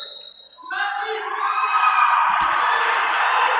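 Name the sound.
roller derby crowd cheering for their jammer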